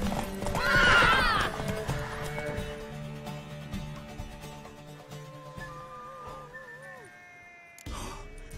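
A horse in The Witcher 3: Wild Hunt gives a loud whinny near the start, then hooves clip-clop steadily beneath game music, with another brief burst of sound near the end.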